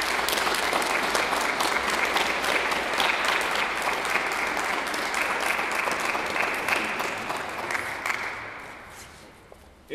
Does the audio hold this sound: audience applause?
yes